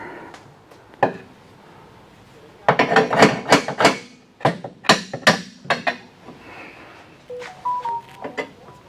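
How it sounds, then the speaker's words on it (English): Irregular metal-on-metal hammer strikes on Jeep Grand Cherokee ZJ frame rail stiffeners ring out close by, several in quick bursts with short pauses between, loud and sharp. "Hammer."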